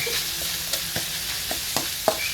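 Food fries in a pan with salt and pepper while being stirred, a steady close sizzle with a few soft scrapes and taps of the utensil.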